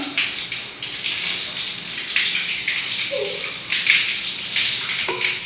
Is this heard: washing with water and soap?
yes